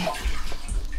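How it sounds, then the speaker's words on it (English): Water drains out of a tank in a loud, brief rush of sloshing and gurgling that surges and dips throughout. "all this water's getting drained out anyway because I'm trying to do the tank"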